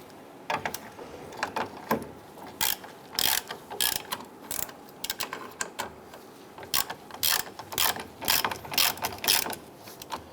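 Rapid bursts of ratchet clicking, loud and close, in irregular runs with short pauses, as a bolt is snugged down on the rear suspension of a 2005-2010 Chrysler 300 during a coil spring replacement.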